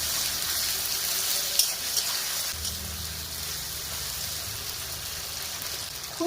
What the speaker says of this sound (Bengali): আদা রসুন বাটা দিয়ে কিছুক্ষণ ভেজে নেব।